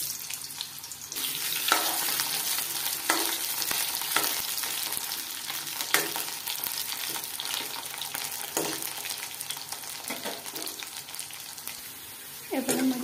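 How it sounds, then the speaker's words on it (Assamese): Potatoes fry in oil in a wok with a steady sizzle, broken by repeated clinks and scrapes of stirring at intervals, close and moderately loud with no talking. "ফাৰ্ষ্ট টাইম আলুখিনি অলপ ভাজি লওঁ।"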